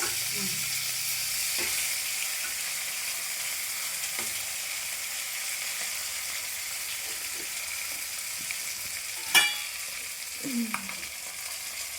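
Fish caught on a line fries in sizzling oil, crackling steadily in a pan, with a few clinks of a utensil and a sharp clatter partway through.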